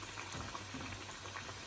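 Namak pare dough frying in hot oil gives off a steady, dense bubbling hiss that stays even and close throughout, with no voices.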